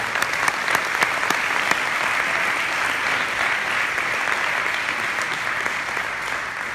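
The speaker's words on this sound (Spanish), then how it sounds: "Un aplauso al Señor, por favor" Church congregation applauds during a Spanish-language sermon, a continuous full wash of clapping with some sharper near claps early on, sustained throughout without talk.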